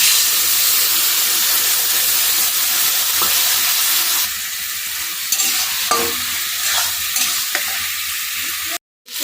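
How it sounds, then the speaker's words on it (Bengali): Taro stolons frying in oil in a pan on a gas stove, a loud, dense sizzle with stirring scrapes that eases slightly midway, close and continuous before a brief cut near the end. "ভাজা ভাজা একটু ভাজা ভাজা হয়ে যাবে তখন গ্যাসের ওভেনটি একটু কমিয়ে দিয়ে ভেজে নিতে হবে"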